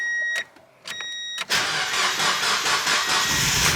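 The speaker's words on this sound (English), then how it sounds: "I'm so confident that this car is gonna start" A car engine cranks in two short bursts with brief pauses, then catches on the third try and settles into a steady, loud idle close by.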